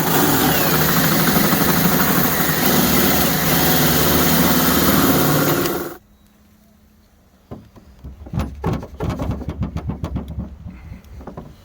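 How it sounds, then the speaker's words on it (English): A power drill boring a hole through a car hood gives a loud, steady, harsh grinding for about six seconds, then stops abruptly, followed by quieter irregular clatter and knocks. "we're just going to drill through just so we can see where we are from underneath"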